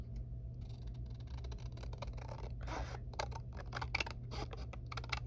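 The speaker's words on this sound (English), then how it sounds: "I'm just gonna trim with my scissors" Paper being trimmed with scissors, with a rapid series of short, sharp snips that grows busier toward the end, heard close over a steady low background hum.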